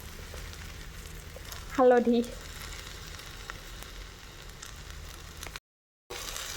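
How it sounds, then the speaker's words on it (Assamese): Dal, rice and vegetables frying together in a pan for khichdi, a steady soft sizzle throughout with a brief louder scrape of stirring near the start and a short spoken word. "গোটেইখিনি ভালদৰে ভাজি লৈছোঁ"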